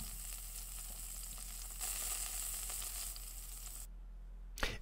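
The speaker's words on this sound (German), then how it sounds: "ich darf auch nicht vergessen, dass wir auf Stufe 5 gerade hier auch brutzeln" Meat sizzling on a tabletop yakiniku grill in a grilling simulation game, a steady, moderately quiet frying hiss that carries on throughout with a small click near the end.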